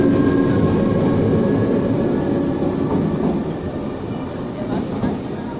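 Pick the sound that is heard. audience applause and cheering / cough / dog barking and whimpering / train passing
train passing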